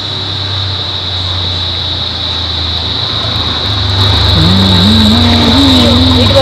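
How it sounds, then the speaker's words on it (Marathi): A tractor engine drones steadily nearby in a village setting, growing a little louder as it passes, with a steady high whine running throughout. "काय आहे रे बघ रे? ट्रॅक्टर आहे ट्रॅक्टर"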